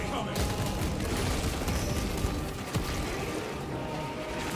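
Dense, continuous gunfire and explosions crackle through a high-level co-op match of Warhammer 40K Space Marine 2, a steady wash of shots with a couple of sharper bangs throughout.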